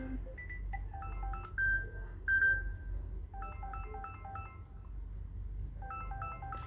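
Short electronic ringtone previews on a Samsung Galaxy Z Flip 5 phone, a few bursts of bright tonal melody cycling one after another over a low background hum, no talking.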